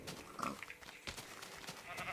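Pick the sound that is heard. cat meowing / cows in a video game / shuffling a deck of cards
cows in a video game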